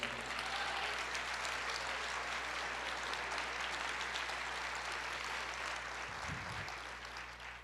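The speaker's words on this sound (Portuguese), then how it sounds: "Você pode aplaudir o Senhor." Congregation in a Portuguese-language church service applauds the Lord, a broad steady roar of clapping filling the whole stretch at even loudness, with a low steady hum beneath and a brief thump near the end.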